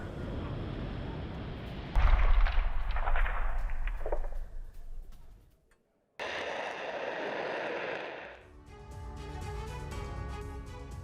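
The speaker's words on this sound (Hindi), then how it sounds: "ईस्टर्न यूक्रेन के इलाकों में फैब 500 से हमला किया गया।" FAB-500 bombs dropped in an airstrike on eastern Ukraine, heavy blasts and rumbling roar, with a loud burst at about two seconds followed by sustained thunderous noise, a brief drop-out, then more rolling rumble.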